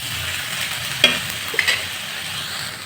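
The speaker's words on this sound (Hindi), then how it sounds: "अब एकरा में डाल दे हम जो कटले रही प्याज के 1 से 2 मिनट तक ले एकरा में भूज ले" Chopped onion frying with okra in a pan gives a steady, close sizzling hiss, broken by a couple of sharp spatula clicks and scrapes near the middle.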